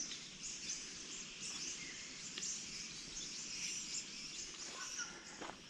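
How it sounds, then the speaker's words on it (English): Birds calling along a forest fire-break trail near the Mount Clare car park in WA's South West, with a steady high insect-like chirring bed, scattered faint chirps and distant calls throughout, no talking. "just have a listen to the birds"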